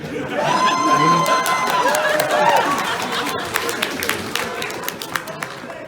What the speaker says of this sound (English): So why are you clapping for that?